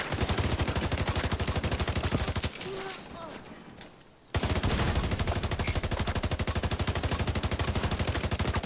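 Sustained rapid automatic gunfire from enemies in The Division 2 hammers loudly and continuously, breaks off for about two seconds of quieter ambience with faint voices, then resumes at full intensity.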